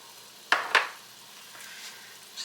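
A whisk works through a seasoned sauce in a pot, with two quick metallic clinks close together followed by a soft, low stirring hiss.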